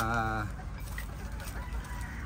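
Gamecock stags being hardened give a short harmonic crow at the start, followed by low scattered clucking at a modest, fairly faint level.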